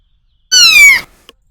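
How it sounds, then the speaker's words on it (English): A kitten gives a single loud, high, drawn-out meow lasting about half a second, close by and alone, followed by a faint tiny click. "I heard the kitten."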